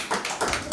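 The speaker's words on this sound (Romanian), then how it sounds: "Aplaudat." Brief applause bursts out at a civil wedding ceremony, a short flurry of close hand claps lasting under a second.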